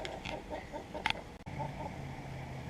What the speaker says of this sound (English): Turns out the chickens like the blackberries about as much as they like the strawberries.